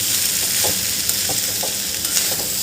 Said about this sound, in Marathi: हे पोहे छान मिक्स करून घेते